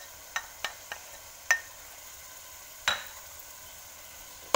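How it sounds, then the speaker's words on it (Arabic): Tuna frying with onion and pepper in a pan, a soft steady sizzle under several sharp clinks and scrapes of a utensil stirring against the pan, fairly quiet and close. "غادي نخليه يتشحر مزيان بعد ما تشحر ليا الطون مع البصله مع الفلفله"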